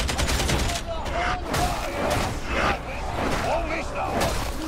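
Enemy gunners in Warhammer 40K: Darktide loose sustained bursts of gunfire, a dense, continuous rattle of shots close by, with game effects and a player's voice over it.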